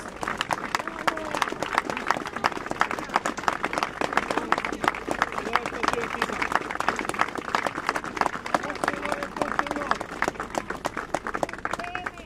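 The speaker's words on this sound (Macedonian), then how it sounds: "Долг аплауз." Long, sustained applause from a large outdoor protest crowd, dense rapid clapping continuing steadily and evenly at moderate loudness for the whole stretch, with faint crowd murmur beneath.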